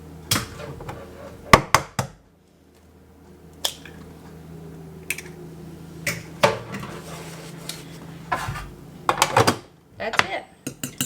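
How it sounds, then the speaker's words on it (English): Two eggs are cracked into a bowl: a few crisp taps and shell cracks spaced apart, close and fairly loud, with faint wet squishes and light kitchen clatter between them. "just crack 2 eggs into a bowl"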